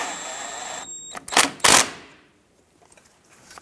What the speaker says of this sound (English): Using an 11 millimeter socket, go ahead and tighten down